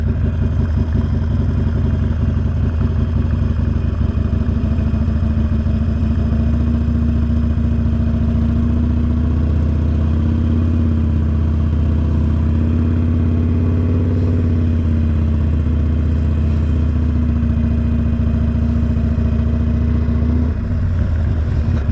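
A motorcycle that looks like a Harley-Davidson Sportster passes, its loud, steady engine rumble holding close throughout with a slight swell as it goes by.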